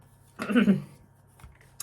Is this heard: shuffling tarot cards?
yes